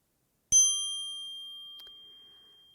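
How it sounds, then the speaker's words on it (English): A single bright bell strike rings out clearly and alone, its pure tone sustaining and slowly decaying over a couple of seconds. "Listening to the bell,"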